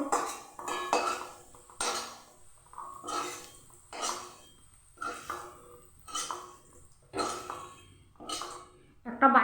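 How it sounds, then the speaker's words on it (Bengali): Fried potatoes scooped out of a pan into a bowl, a series of separate metal scrapes and clinks of spoon against pan and dish repeating at a steady, unhurried pace, close and moderately loud. "এবার আমি আলুটাকে তুলে নেবো একটা বাটিতে"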